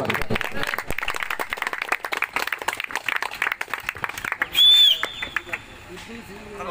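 Outdoor crowd claps during a prize ceremony at a night-long football tournament, with scattered applause rattling for several seconds before thinning out as a whistle-like tone and a voice on the loudspeaker take over.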